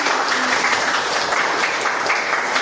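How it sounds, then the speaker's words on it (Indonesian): A classroom of students claps their hands together in steady, dense applause, loud and close, filling the room without pause. "Oke, tepuk tangan semua."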